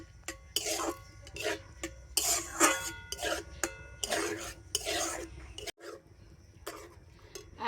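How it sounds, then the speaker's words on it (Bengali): Semolina being stirred into a dough in a pan over a low flame, heard as bursts of scraping and knocking of the spoon against the pan, fairly close, with a brief gap near the end. "আর এবারে আমি নাড়াচাড়া করে সুজিটাকে একটা ডো তৈরি করে নেব"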